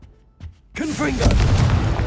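After brief quiet, a Confringo spell in Hogwarts Legacy erupts into a sudden, loud explosive boom that rumbles and crackles for over a second, with a voice speaking as it bursts.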